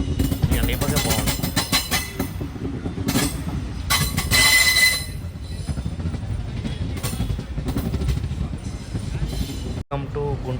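Sabari Express train arriving at Guntur Junction: a loud, continuous rumble of rolling wheels and carriages with squealing and clattering, heard close from on board, with speech mixed in.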